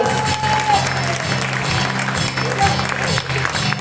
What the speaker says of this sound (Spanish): Que le den un aplauso grande al Señor.